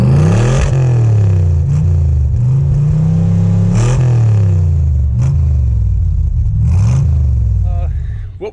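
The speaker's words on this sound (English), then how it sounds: "what we have here is a 67 Corvette in tuxedo black, with a stinger, side pipes, tinted windows, L79 327." A black 1967 Corvette with an L79 327 and side pipes revs repeatedly, loud, close rumbling blips rising and falling in pitch every second or two, ending with the engine settling down.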